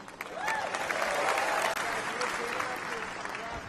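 Sustained crowd applause fills a political convention hall during a speech, a dense, steady clapping roar lasting several seconds, fairly near and loud, with voices mixed in.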